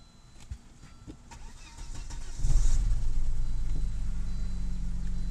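A 1996 Volvo 850 engine cranks and catches, then settles into a steady, close idle after some quiet handling noises at the start.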